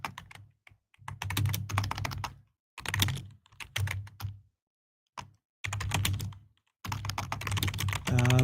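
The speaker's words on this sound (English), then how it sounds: "This moment of typing brought to you by Tom Clark's Main Event" Typing on a computer keyboard in dense, fast bursts of clicks separated by short pauses, close and fairly loud with no talking.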